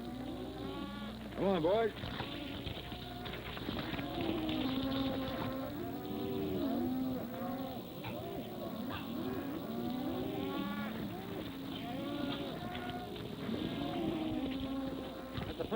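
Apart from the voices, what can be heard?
cattle herd mooing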